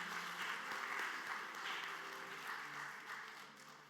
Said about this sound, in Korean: 우리 참석하고 있는 형제를 위해서 축복하고 격려하는 박수 하도록 하겠습니다